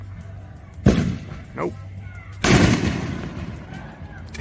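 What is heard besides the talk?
fireworks going off outdoors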